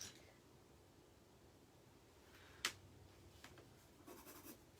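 Pencil scratching over paper during a drawing lesson, faint and close, with quiet strokes and one sharp louder scratch midway, no voices.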